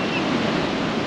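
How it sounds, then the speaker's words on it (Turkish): Rough Atlantic Ocean waves at Taghazout, Morocco, a steady broad wash of surf with some wind, loud and continuous. "Çok çetin dalgalar var."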